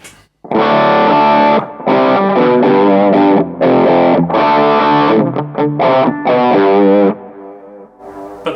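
Electric guitar played through a fairly gainy amp with a dual boost pedal, distorted chords and riffs in loud bursts separated by brief stops, with a quieter tail at the end.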